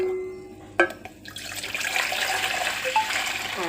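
Hot tea poured back and forth between vessels to cool it, a sharp clink followed by a continuous splashing stream of liquid, close and fairly loud, with no talk.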